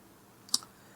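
One crisp computer mouse click while filling in an online company registration form, a single short, close tick against a quiet background.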